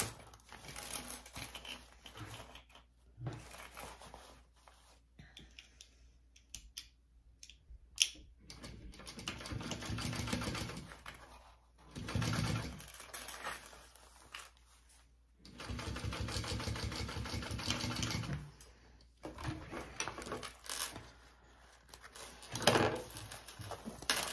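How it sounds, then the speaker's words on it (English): A sewing machine top stitches a crossbody bag in several bursts of rapid, even whirring, separated by pauses with crinkling fabric handling, at moderate distance and fairly quiet. "Okay, so now we're top stitching this side here."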